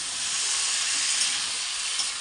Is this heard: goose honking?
no